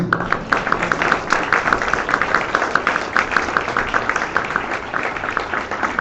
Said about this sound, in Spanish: Fuerte ese aplauso al Señor, amén.